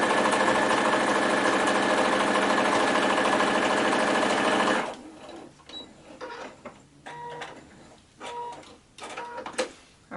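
A sewing machine running fast and steadily while stitching scrappy string tumbler pieces for a quilt, a loud continuous whir that stops abruptly about halfway, followed by quiet fabric handling and small clicks.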